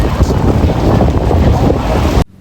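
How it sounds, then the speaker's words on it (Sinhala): Speedboat crossing open sea toward Coral Island, Thailand, with a loud, steady roar of engine, wind buffeting and rushing water that runs continuously before cutting off abruptly near the end. "මෙතන ඉඳලා නම් අයිලන්ඩ් එකට යන්න තියෙන ස්පීඩ් බෝට් එකෙන්."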